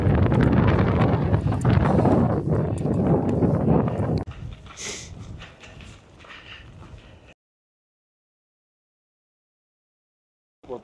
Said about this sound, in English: A little windy for the drone today